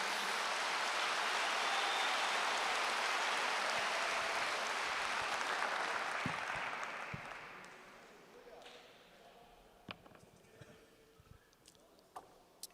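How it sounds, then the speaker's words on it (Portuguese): Church congregation applauding during an evangelical sermon, a loud sustained wash of clapping that fills the room for several seconds, then thins out and fades to scattered claps and quiet. "Glória a Deus, aplauda ao Senhor mesmo."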